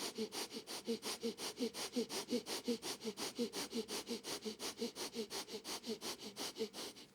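Breath of fire in a Kundalini yoga session: rapid, rhythmic nasal breathing, around four sharp pumps per second, steady and close, with no talking.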